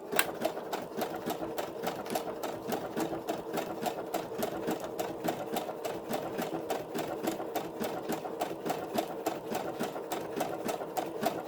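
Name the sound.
sewing machine stitching paper to cloth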